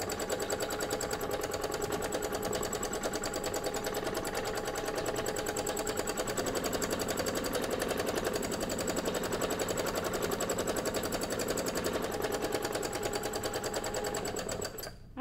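A sewing machine doing free motion quilting runs steadily for about fifteen seconds, loud and close, with a continuous fast stitching hum that stops abruptly at the end.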